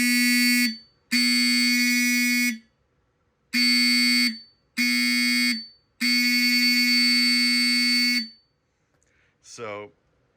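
A Faraday 5630 12 volt fire alarm horn at 0.2 amps on a bench test, blaring a loud harsh buzzing tone in several bursts of uneven length separated by silences, followed by a brief short sound at the end.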